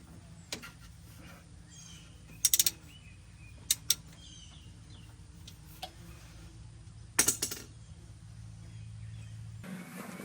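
Drain plug being screwed back into a tractor during a 400-hour service on an MX5400, a quiet mechanical setting broken by a few sharp metallic clicks and ratcheting bursts.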